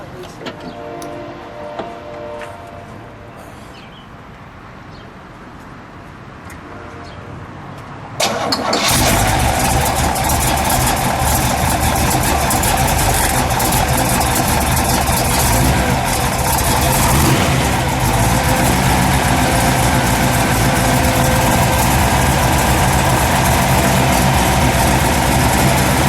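A 1963 Chevrolet Impala hardtop with the 409 V8 cranks and catches, then settles into a loud, steady idle that fills the rest of the clip after a quiet stretch at the start.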